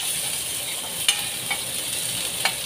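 Onions sautéing in a pan for a jowar flour dosa, a steady soft sizzle with faint stirring scrapes and a few light clicks of the utensil, no voices.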